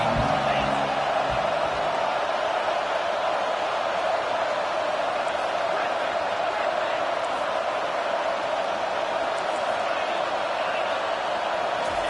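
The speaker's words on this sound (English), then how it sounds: "Decibels rising as the crowd gets behind this defense on 3rd down." Loud, sustained roar of a college football stadium crowd cheering as the defense lines up on third down, a dense continuous wall of noise with a broadcast announcer talking over it.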